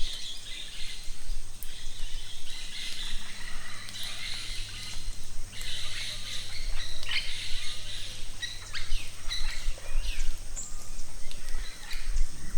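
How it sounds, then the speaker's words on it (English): Dense early-morning birdsong fills a quiet riverside property along the Rio Bravo in Belize, many chirps and trills overlapping continuously at moderate distance, with a faint insect hum beneath. "In the early morning, the air was abuzz with the singing of birds."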